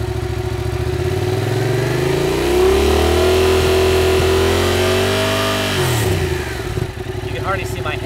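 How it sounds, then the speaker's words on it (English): Motorcycle engine running close and loud, its pitch rising and holding as the throttle is opened, then falling back toward idle, with a voice talking over it. "you hear the engine revving, because this is the initial throttle we need"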